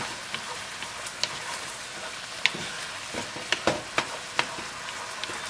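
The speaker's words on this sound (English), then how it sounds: "you're gonna stir fry that, or saute it up for about 1 minute" Chicken stir-frying in a pan for a paleo pad thai, a steady broadband sizzle with scattered sharp clicks and scrapes of a utensil against the pan, close and moderately loud, with no talking.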